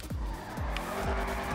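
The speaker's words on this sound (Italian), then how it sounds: "Rombo di motore veramente spettacolare." In GTA 5, a Vapid Dominator GTX's engine drones loudly and steadily while three swooping tire squeals or revving sweeps repeat at even intervals, close and with no talk.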